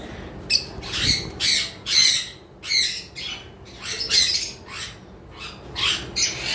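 Conure parrots in a breeding setup give a rapid series of harsh, loud squawks in close, uneven bursts, with no voices heard.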